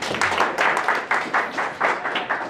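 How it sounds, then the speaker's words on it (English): An audience claps for a speaker at a marketing and branding masterclass, giving a short burst of hand clapping in uneven, pulsing waves that lasts about two and a half seconds. "Let's get Jared a hand clap."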